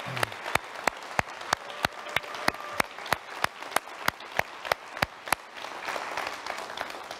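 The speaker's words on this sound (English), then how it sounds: "Can we give them another round of applause?" Church congregation applauding, with sharp distinct claps standing out in a steady beat over a softer bed of scattered clapping, building slightly toward the end.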